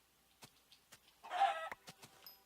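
A Minecraft chicken gives a series of short, soft clucks in an irregular rhythm, with one longer, louder squawk in the middle, heard alone and nearby.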